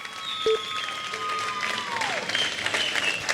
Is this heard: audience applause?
yes